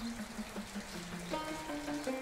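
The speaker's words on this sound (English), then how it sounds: "And it's raining, and that makes me very happy." Steady rain falls in the video game Project Zomboid, a soft, even patter of drops that stays faint throughout with no voices.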